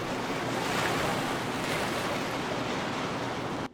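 Steady roar of ocean surf at Cox's Bazar heard from a resort balcony, washing continuously, broadband and fairly close, with some wind noise over the microphone and no voices.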